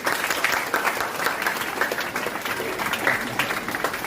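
Audience at a school award ceremony for top students claps loudly and continuously, a dense crowd applause with a faint voice underneath, steady from start to finish.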